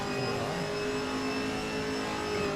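A Chevrolet Camaro race car at the Bathurst 12 Hour endurance race, its engine giving a loud, sustained whine with strong harmonic tones that holds steady throughout, with no voices.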